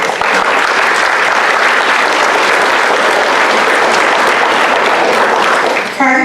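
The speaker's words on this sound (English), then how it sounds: "So a little maybe clap for her." Applause rings out for an award recipient at a Phi Theta Kappa honor society induction ceremony. The clapping is loud and dense and holds at an even level before cutting off near the end.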